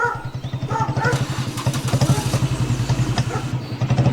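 A motorcycle engine chugs close by in a steady, rapid putter, with a brief voice near the start.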